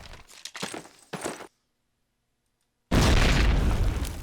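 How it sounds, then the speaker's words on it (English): A grenade goes off in a Call of Duty match as one loud, heavy blast that sustains to the end, preceded by a few sharp gunshots and a brief moment of near silence. "Oh, nice nade by X-Rated."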